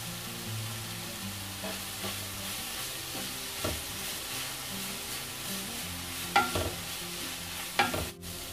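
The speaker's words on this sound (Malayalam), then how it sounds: "കറിവേപ്പിലയും കൂടെ ചേർത്ത് കൊടുക്കാം" Duck curry pan sizzling steadily as curry leaves and slit green chillies go in, a constant close frying hiss with a few spatula scrapes and stirring clinks, no talking.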